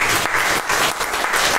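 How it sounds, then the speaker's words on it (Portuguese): Church congregation applauding during a sermon, a loud continuous roar of many hands clapping in pulsing waves, with no speech over it. "Dá para a gente aplaudir a Jesus ou não?"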